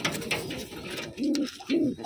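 Pigeons coo in two distinct, fairly close low bursts during feeding, with softer rustling and faint bird noise running underneath.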